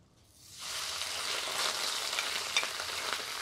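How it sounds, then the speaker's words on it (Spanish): Pork sizzling in hot oil on a comal, a steady, dense crackling fry that swells up within the first half second and then holds close and even, with no voices. "Y pues la vamos a dejar que se fría bien."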